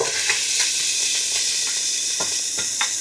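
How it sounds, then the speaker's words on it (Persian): A large diced onion fries in a pan with a bright, dense hiss, steady and close, with a few light stirring scrapes breaking through and no one talking. "توی همون مایتابه یه دونه پیاز درشتی که داشتیمم سرخ میکنم"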